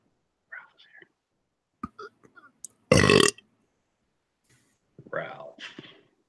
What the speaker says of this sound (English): I turned my mic off from my burp